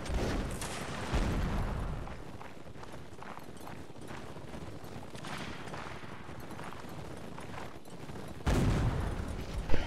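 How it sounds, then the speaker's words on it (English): Cannon fire rolls through a Mount & Blade: Napoleonic Wars battle, with a sharp boom near the start and another near the end standing out from a dense, continuous din of battlefield noise, hoofbeats and distant shots. "Firing at the left guns."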